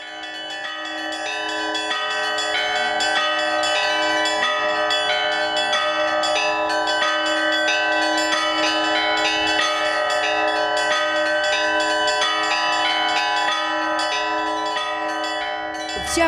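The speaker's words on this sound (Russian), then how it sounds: "звучит старинная колокольня Александра Невской лавры" Old church bells in the bell tower of the Alexander Nevsky Lavra ring continuously during a bell festival, a layered, resonant peal, many bells overlapping at steady volume, close and full.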